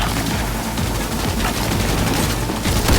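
Heavy sustained gunfire in Cyberpunk 2077, a loud dense barrage of overlapping shots and impacts pounding without pause throughout.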